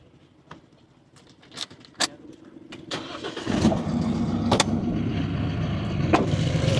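A few clicks and knocks, then a remapped diesel pickup engine cranks and catches, settling into a loud, close, rough idle that swells slightly as it revs.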